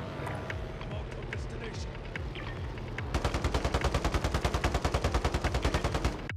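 Warzone video game gunfire: a rapid, steady burst of automatic shots hammers loudly through the second half, following a stretch of mixed in-game noise and scattered shots, with voice chat underneath.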